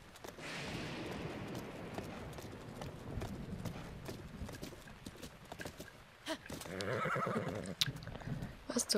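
A horse in the video game The Legend of Zelda: Breath of the Wild clip-clops and lets out neighs over a busy game soundscape, with a louder burst of noise near the end.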